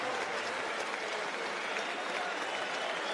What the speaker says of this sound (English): listen to this applause from the crowd